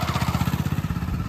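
A motorcycle engine runs at a steady low idle just after starting, its rapid even thumping pulses close and clear with no one speaking.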